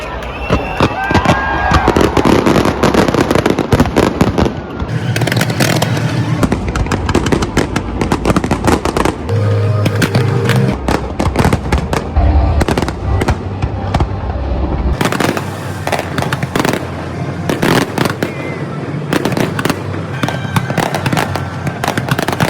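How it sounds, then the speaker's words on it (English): Festival fireworks over Porto crackle and boom in dense, rapid volleys heard from a balcony, with loud bursts and continuous crackling filling the air. "We were so glad to have a view from our balcony for the fireworks"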